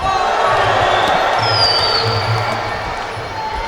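Trabzon spectators at a Muay Thai bout roar in a steady, loud crowd din that fills the whole stretch, with a brief high whistle-like tone rising above it.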